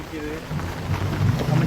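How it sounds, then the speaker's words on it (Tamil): Rain falls outdoors in a village cooking setting, a dense steady hiss with low rumbling beneath, growing slightly louder over a short stretch. "சமைக்கிறதுக்கு தான் மழை வரணுமா?"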